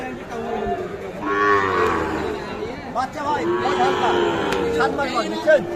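Sahiwal cattle at the Ambari haat cattle market give loud, drawn-out moos, close by and overlapping, while people talk nearby.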